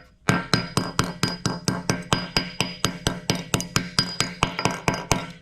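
Light, quick hammer taps on metal set on an anvil or metal table during a cheap dozer repair: a steady run of about twenty crisp, ringing strikes in five seconds, close by and evenly spaced, with no talking.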